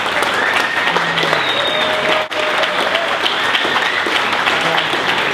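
Loud, steady audience applause for a competing barista at a Tamper Tantrum event, dense clapping filling the room with a brief dip partway through and faint voices mixed in.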